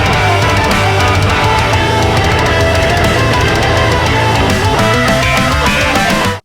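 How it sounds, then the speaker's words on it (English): Heavy distorted electric guitar played through a Boss Waza Craft Metal Zone pedal into a Fortin Grind, a dense, loud chugging riff running continuously for several seconds before stopping abruptly. "we put the Boss Wazacraft Metal Zone to the test to make it sound like this."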